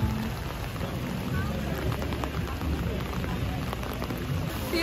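Heavy, steady rain pours onto a Manhattan street in New York, a dense continuous hiss and patter that fills the whole stretch with no pause.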